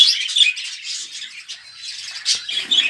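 Pet birds chirp and tweet busily while eating feed, a close, steady chatter of high, quick calls with no other sound.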